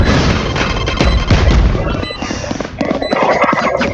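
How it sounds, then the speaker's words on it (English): A grenade goes off in the shooter game Valorant, a loud booming blast among dense gunfire-like crashes and game effects, heard close and filling the short burst of action. "Grenade!"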